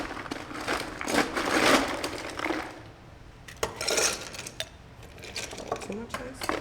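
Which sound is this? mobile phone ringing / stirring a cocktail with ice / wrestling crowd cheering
stirring a cocktail with ice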